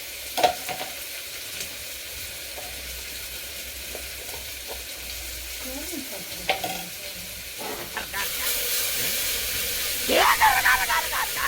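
Mutton pulao being stirred and sizzling in a pan, a steady soft frying hiss with scraping spoon strokes that grows louder toward the end, while people talk over it.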